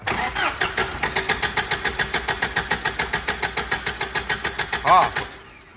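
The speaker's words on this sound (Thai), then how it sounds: "อ้าวติดเครื่อง" A Tata car with a hard-starting fault is cranked after its camshaft sensor is replaced. The starter churns in a steady, rapid rhythm for about five seconds, surges briefly, then cuts off.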